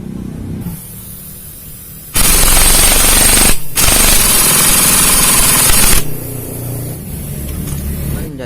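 On a Shogun 110 clutch assembly, a clutch bolt is tightened with a loud pneumatic impact wrench. Two harsh rattling bursts come close together after a quieter start, and a low hum follows.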